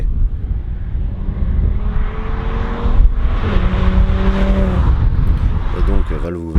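An Audi RS3 with a Turbotechnique exhaust, valve closed, drones steadily on a road test. The engine tone rises through the gears with a brief dip around a shift, loud and close throughout.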